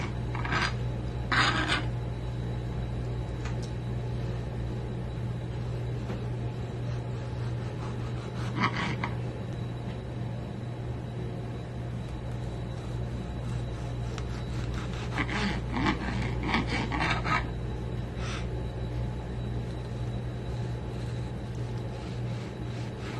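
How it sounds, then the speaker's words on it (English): A kitchen knife slicing through a fresh tomato: a handful of short, scraping cut strokes, spaced irregularly and close up, over a steady low background hum, with no talking. "And we're gonna start with the tomato. We're just gonna cut the top off here."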